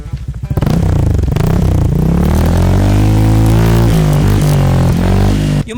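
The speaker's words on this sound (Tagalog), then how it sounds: "Pakinggan nyo yung tunog ng isang WRC pipe." A Honda Click v3 motorcycle fitted with a WRC burn exhaust pipe revs up close and very loud, its engine note rising and falling through several throttle blips over about six seconds.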